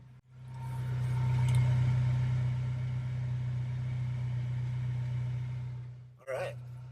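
An engine-swapped vehicle on 31-inch tires with 4.10 gears runs steadily nearby, a low, even hum that holds for several seconds before cutting briefly and resuming.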